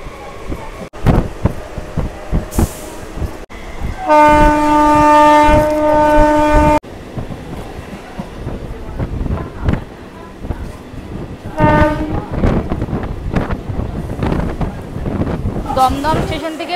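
Sealdah-Lalgola local train pulling out of Kalyani station, with a loud sustained horn blast, a second shorter horn call later, and rumbling wheels and carriage noise throughout, close and loud.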